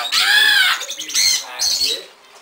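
Birds at a parrot house give loud, close, harmonic squawking calls in three bursts that fade toward the end, with no talk over them.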